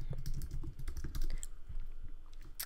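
Someone types a search on a computer keyboard, a quick run of close, light key clicks in an uneven rhythm, quiet and without talk.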